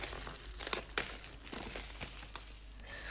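Crinkling and tearing of plastic wrapping being ripped off a space grey Apple MacBook Pro M1 box during unboxing, with several sharp close rips and rustles over about three seconds.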